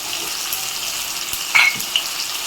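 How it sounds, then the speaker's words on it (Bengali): Spice masala of cumin powder and Kashmiri chilli powder stir-fried in a pan, heard as an even bright frying hiss with a short clatter of the spoon near the middle, close and without voices. "নেড়ে চেড়ে মশলাটা কষিয়ে নেব"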